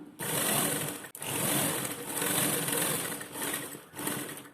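A sewing machine stitches a lined blouse in long continuous runs, a steady loud whirring hum that stops briefly twice between seams.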